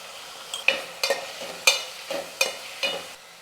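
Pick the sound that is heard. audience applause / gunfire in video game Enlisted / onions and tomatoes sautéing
onions and tomatoes sautéing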